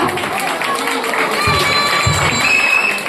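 A school audience at a Kannada language event cheers and claps for children, a loud, close crowd roar of shouts and mixed voices rising and falling throughout, with scattered applause underneath.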